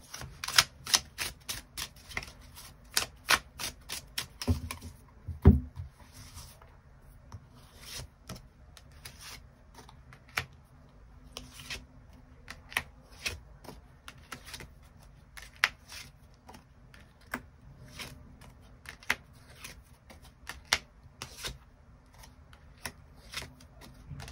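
Tarot cards are shuffled and drawn on a table: rapid dry papery riffles and flicks up close, followed by scattered soft slides and taps, with no talking.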